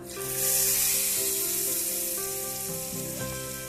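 Hot tadka tempering poured into dal sizzles loudly at close range, a bright steady fry that eases off slightly over a few seconds, with faint music-like tones underneath.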